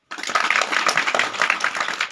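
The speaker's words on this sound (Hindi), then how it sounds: "बजाओ ताली।" An audience claps hands together at a devotional gathering, a dense, steady patter of applause that starts abruptly and holds loud and close throughout.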